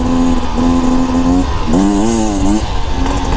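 A 2024 Beta Xtrainer two-stroke dirt bike with the oil injection removed buzzes loudly and close, its pitch rising and falling as the throttle is blipped while riding.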